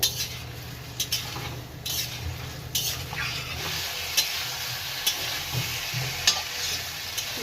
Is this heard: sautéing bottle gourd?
yes